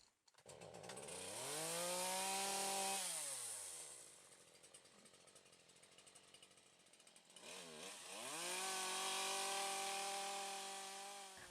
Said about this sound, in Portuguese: a minha ferramenta mais usada é a motosserra